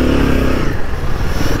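A Royal Enfield Himalayan 450 adventure motorcycle being moved, its engine running loud and close with a low rumbling idle and some clatter, no talk over it.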